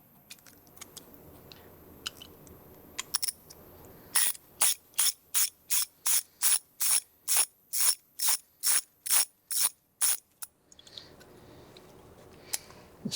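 Ratchet wrench working on a Harley Davidson Sportster foot peg, about fifteen sharp, evenly spaced clicking pulls in a steady rhythm, close and loud, with quieter handling noises before and after.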